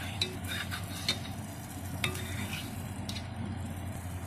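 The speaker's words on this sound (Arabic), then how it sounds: "انا حاطه البسبوسه على نار متوسطه وهفضل اقلب فيها لغايه لما كلها تاخد اللون الذهبي" Basbousa semolina cake being stirred in a pan over medium heat, with a continuous soft sizzle and scraping and occasional sharper utensil taps against the pan, close and steady with no talking.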